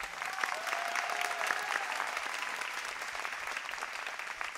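Gathering applauding to welcome guests at a Holi festival event at Shantikunj: steady, close crowd clapping with a faint tonal hum beneath, lasting several seconds.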